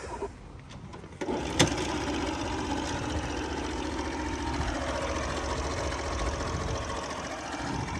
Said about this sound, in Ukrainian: М'якенько працює двигун, але якось незвично